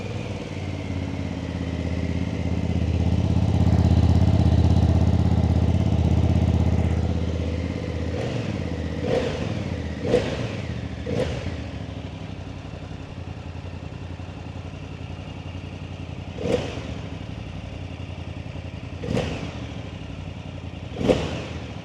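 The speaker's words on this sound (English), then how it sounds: "this moment is that moment that we start the bike up." A 2024 BMW F 900 GS motorcycle engine starts up with a swelling rumble, then settles into a steady idle marked by sharp intermittent clatters and blips.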